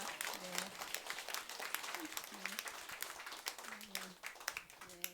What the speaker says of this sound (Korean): 최대환 세례자 요한 신부님께 다시 한번 큰 박수 부탁드립니다